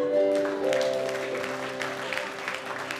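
Church congregation applauding and cheering in praise of Jesus, steady broadband clapping over sustained worship music with held organ or keyboard chords throughout.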